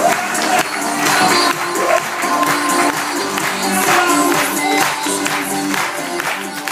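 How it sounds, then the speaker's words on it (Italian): Applause and cheering from a theatre audience at the finale of an amateur variety show, a dense, steady crowd roar with clapping that carries loud throughout without breaks. "Io farei un grande applauso a lei,"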